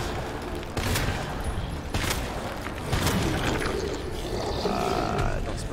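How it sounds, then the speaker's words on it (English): Resident Evil 2 Remake gameplay: mechanical clicks and clacks of a gun being reloaded mix with scattered gunshots and impacts, moderately loud, with a voice talking over parts of it. "Reload while I got the chance."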